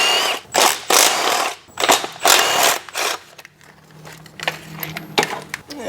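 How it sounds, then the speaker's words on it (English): A wrench ratchets on the motor mount bolts of a Mustang 2V engine, several short, close bursts of clicking separated by brief pauses and quieter handling noises. "to get better access to these bottom bolts, I'm gonna remove this motor mount"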